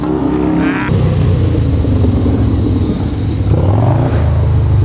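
Loud Harley-Davidson motorcycles rumble and rev nearby, a deep, heavy engine drone with a brief rising throttle blip early on and another swell of revs later.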